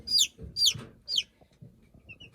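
A young rooster gives three quick, squeaky clucking calls in a row, close up, followed by soft low rustling.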